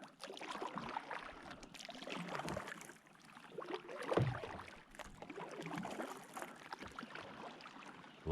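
Kayak paddling on water near a weed bed, soft irregular splashes and drips from the paddle strokes, close and quiet, with faint outdoor ambience and no talk.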